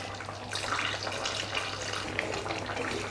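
Water pours steadily into a pan of simmering chicken gravy, a continuous close rushing splash with no talk.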